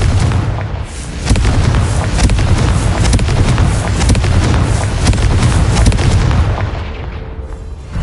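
Confringo fire spell explosions boom loudly in Hogwarts Legacy, with heavy low rumbling blasts and crackling debris that go on almost continuously for several seconds, then die away at the end.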